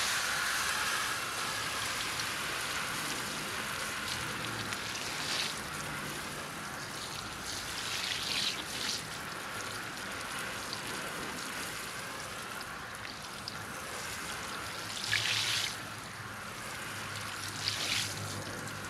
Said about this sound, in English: So I'm gonna go ahead and give it a rinse now.